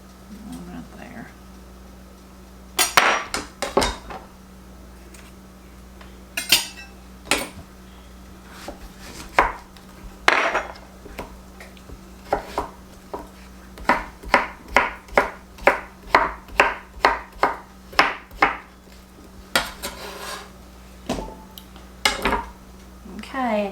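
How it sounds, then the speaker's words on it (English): A knife chops zucchini on a cutting board in a home kitchen, with irregular sharp knocks that turn into a quick, evenly spaced run of cuts midway. Each cut is crisp and close, and a low steady hum sits underneath. "Okay, I got it all chopped up."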